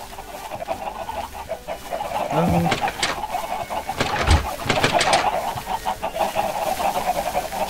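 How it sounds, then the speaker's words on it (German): Minecraft chickens cluck and coo in short bursts from the game soundtrack, while someone speaks briefly over them in German. "Die ganzen Hühner."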